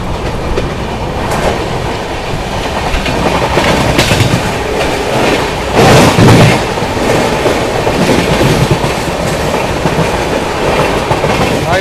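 The 12392 Delhi–Rajgir Shramjeevi Express rolls along the rails with a loud, continuous rumble and rhythmic clickety-clack of wagon wheels, heard up close from aboard the train with no voices.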